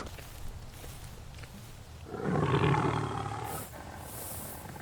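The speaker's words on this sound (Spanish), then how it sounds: "toda criatura de esta tierra temblaba al oír los rugidos de los Mapogo, 6 leones machos" A male lion of an African savanna coalition lets out a deep, rumbling roar that swells midway and then fades, heard at moderate distance over a low outdoor background.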